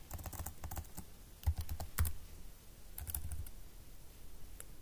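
Quick bursts of typing on a computer keyboard, with clustered clicky keystrokes in short runs separated by brief pauses, close and fairly clear over a low background hum, with no talking.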